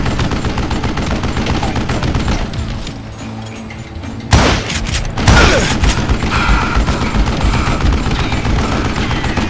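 Gunfire in the Western video game Call of Juarez Gunslinger: a rapid run of shots over a rumbling backdrop, a quieter lull, then two loud close bursts of fire followed by more crackling shots.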